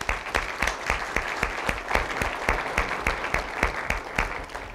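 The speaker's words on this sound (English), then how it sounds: "so give yourself a hand one more time." A large audience at a town-gown relations conference applauds steadily, dense clapping that holds even throughout without any voices.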